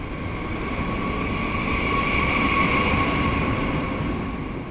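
A train rolls along with a steady, loud rumble and a faint sustained hum, continuous and unbroken throughout.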